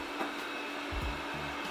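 An ABIR X9 robot vacuum cleaner runs on strong suction, giving a steady broadband whir that holds level throughout, with a few faint low bumps and clicks underneath.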